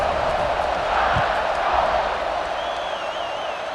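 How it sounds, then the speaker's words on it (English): Stadium crowd cheering and buzzing in EA Sports College Football 26 after a score, a steady roaring wash of voices that holds throughout, loud and continuous with faint whistles. "this crowd is buzzing after that last score"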